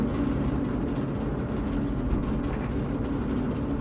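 In the Open Rails train simulator, a train labours up a steep 1.8% grade near Edge Hill, Liverpool, producing a steady low rumble and rolling drone, unbroken and without voices.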